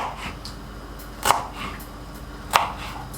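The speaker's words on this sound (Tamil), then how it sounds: "ஹரிசாண்டலாக கட் பண்ணதை அப்படியே சாப் பண்ணி" Two crisp, isolated knife chops land on a cutting board about a second apart, slicing vegetables for egg fried rice, close and fairly loud against a quiet kitchen background with no talking.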